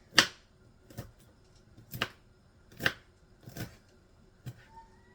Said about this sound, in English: And then I chop them up into smaller pieces.